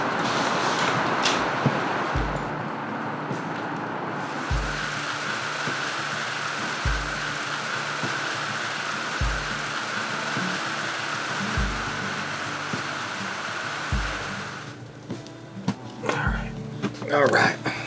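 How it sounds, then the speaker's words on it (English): Rain falls steadily on surfaces around a shed under construction, a soft continuous patter with some low thumps and knocks. Voices speak over it near the end. "It started raining."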